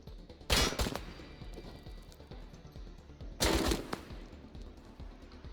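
Automatic gunfire in the video game Wasteland 3, two short bursts of rapid shots about three seconds apart, fairly faint under a quiet background.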